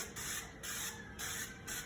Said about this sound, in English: I'm gonna spray this down with my cooking spray.